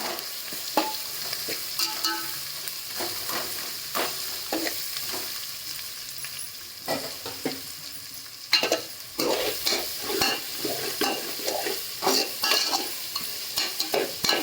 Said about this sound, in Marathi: आता आपलं हिरव्या मिरचीचा ठेचा याचा टाकून घेते मी तो पण छान असा परतून घेत होता